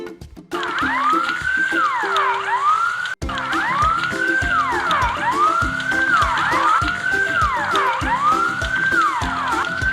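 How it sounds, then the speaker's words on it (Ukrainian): Fire engine siren blaring continuously, a loud rising-and-falling wail that repeats in regular cycles, briefly cut once near the start, with no voices over it. "ввімкнемо пожежну сирену, щоб нам звільнили дорогу"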